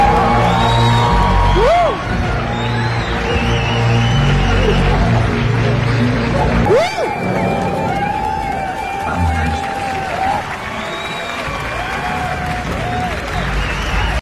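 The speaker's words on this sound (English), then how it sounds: "Check out these audience reactions." Movie theater audience at a screening of The Batman cheering, whooping and applauding in loud crowd bursts over the film's booming soundtrack, with a big swell around the middle.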